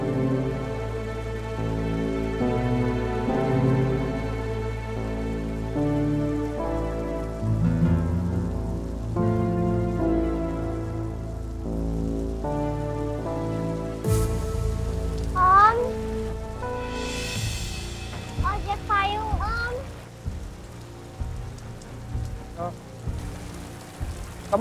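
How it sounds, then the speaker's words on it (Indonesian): Heavy rain pours steadily in an outdoor scene from an Indonesian TV drama, a dense continuous hiss throughout. Music and tonal sounds play over the rain and swell partway through. "Hujannya juga deras."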